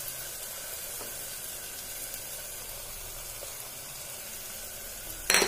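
Spice powders frying in a pan for a pumpkin curry make a steady, even sizzle throughout, ending in a brief louder burst of hiss.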